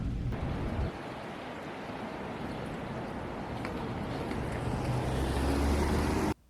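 Niagara Falls sends a steady, broad rushing roar into a fallsview hotel room. The noise holds evenly throughout with no voices, then cuts off abruptly at the end.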